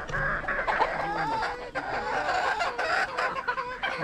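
Tornado hatch gamefowl on a chicken farm cluck and chatter in a busy, overlapping flock, close by and fairly loud, with brief sharper calls breaking through.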